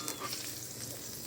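Food bubbles and crackles in hot oil during deep frying with a dense, steady hiss, crackling like chicharon, close and continuous with no speech.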